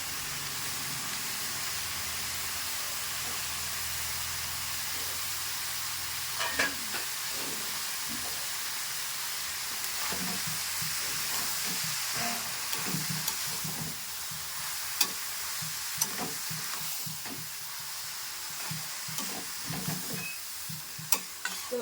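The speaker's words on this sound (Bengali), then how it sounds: "এবার কিন্তু আমি বাঁধাকপিটা ঘন্ট বসিয়ে দিলাম" Cabbage tossed with a little salt, cooking in a pan, gives a continuous hissing sizzle with repeated stirring knocks and scrapes scattered through, close and steady throughout.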